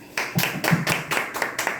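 Church congregation at a Christmas service clapping in a steady rhythmic beat, about six or seven sharp claps across the moment, close and fairly loud with no talk over them.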